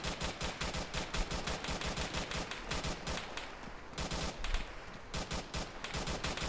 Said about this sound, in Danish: Jeg skyder et magasin med af.